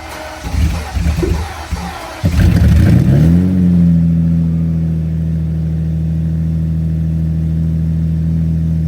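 A Lamborghini Diablo VT Roadster engine cold starts, cranking and firing up with a loud rev, then settles into a steady, deep, rumbling idle close by.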